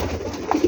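A pigeon gives a short, low, soft coo close by, with a faint hum behind it.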